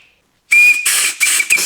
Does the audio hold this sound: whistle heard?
yes